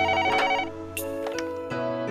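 Phone ringtone sounding in the PS3 visual novel WHITE ALBUM2, a bright electronic melody with steady harmonic tones, loud and close, playing alone.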